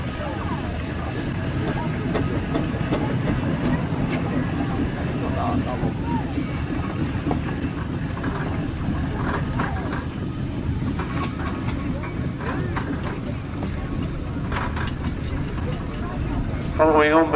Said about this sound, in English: Following on behind is another of John Selby's machines, which is actually Fowler Roller.